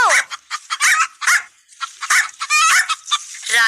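Hens clucking close by in a farmyard, a busy run of loud, repeated clucks and squawks with short pauses between bursts.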